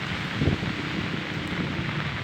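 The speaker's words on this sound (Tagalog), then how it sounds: "Grabe. May bagyo na naman yata." Morning storm with rain and wind, a loud, constant broadband rush and buffeting of wind noise on the microphone with heavy rain beneath, steady throughout with no speech.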